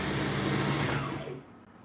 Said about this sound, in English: So I'm about to sew both sides down